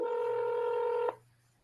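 Telephone keypad tones sound as one sustained, clear dual-pitch beep lasting about a second, then cut off, leaving a faint low hum behind.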